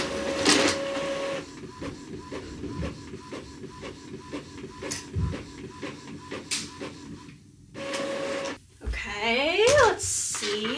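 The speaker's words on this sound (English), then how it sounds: "Printer is working." A home printer prints, with rhythmic mechanical clicking and whirring, then a sweeping paper-feed whine toward the end, while a person talks intermittently.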